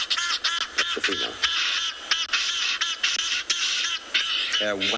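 A female bird's call played back from a recording during a South African morning safari, heard as a fast run of harsh, squawking, honking notes that repeats steadily, with a brief voice near the end.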